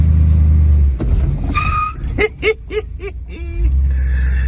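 A 1964 Chevrolet Bel Air engine turns over and catches after the car sat unused, with a few clicks and sputters before settling into a steady running rumble; voices are faintly audible.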